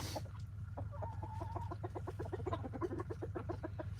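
Hens clucking in a backyard coop early in the morning, a steady run of rhythmic, close clucks and short calls over a constant low hum, with no talking.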